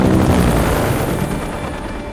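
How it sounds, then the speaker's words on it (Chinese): Helicopter lifting off amid fire in an action film, a loud, dense roar of rotor and engine that fades slightly as it rises. "直升机在高温的烘烤下开始缓缓上升"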